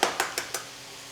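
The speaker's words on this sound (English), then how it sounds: "I'm gonna cover the pan." A metal lid clatters onto a pan of eggs nestled in Brussels sprouts, four quick sharp clinks in a row, close and bright, fading to a quiet room afterward.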